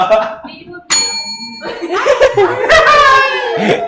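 A push bell pressed once during a live-streamed show, giving a single bright ringing ding, followed by close voices talking and laughing.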